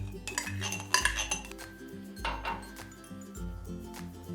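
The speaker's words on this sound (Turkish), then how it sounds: "Ve yine kaşıkla karıştırıyorum." A spoon stirs a creamy Cocostar dessert mixture in a bowl, clinking and scraping against the sides in uneven strokes, fairly close, over background music.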